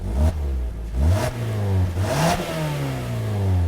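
A 2017 Mazda CX-5 Grand Touring with a revised 2.5-liter four-cylinder engine and six-speed automatic revs and accelerates nearby, its engine note rising and falling in loud surges with no talk over it.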